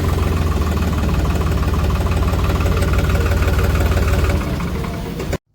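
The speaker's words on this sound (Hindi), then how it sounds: "एक बार आरपीएम और चेक करवाता हूँ रेस्पॉन्स पे। ये देखो मतलब बिल्कुल डिफरेंट आवाज़ है ट्रैक्टर की।" A New Holland 3630 Super Plus 50 HP tractor engine runs at raised rpm, a loud, steady diesel drone with a dense rapid pulse that holds for about five seconds, then cuts off abruptly.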